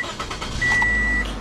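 A 2007 Toyota Corolla S with a 1.8-liter engine starts up in a short burst of cranking that catches and settles into a steady idle, close and fairly loud.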